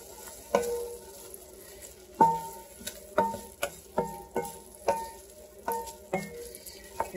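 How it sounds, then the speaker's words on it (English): Lasagna soup ingredients stirred in a pot, a utensil knocking and scraping against the pot a dozen or so times at an uneven pace, over a low sizzle, close and with no talk. "I'm going to give it a good stir."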